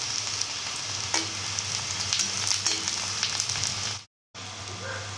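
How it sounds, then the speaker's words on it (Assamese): Sliced onions and green chillies frying in hot oil for a simple vegetable dish, giving a loud, continuous close sizzle that cuts out briefly near the end and then resumes. "পিঁয়াজখিনি অকণমান ৰঙচুৱাকৈ এয়া ভাজি ল'লোঁ"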